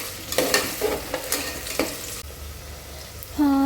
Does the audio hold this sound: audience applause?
no